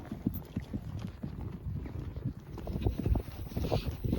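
A horse on an off-road endurance ride in Friston Forest, trotting on a loose rein, its hooves clip-clopping in a steady rapid rhythm, close and fairly loud, with light wind noise on the microphone.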